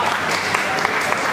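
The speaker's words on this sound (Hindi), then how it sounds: "तालियों से फिर से स्वागत करिए चार लाइनों का" Audience at an open mic poetry event claps steadily, a dense wash of applause that carries on at an even level through the moment.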